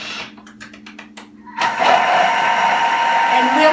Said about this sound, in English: In only a few seconds, we have chopped the onions and the garlic.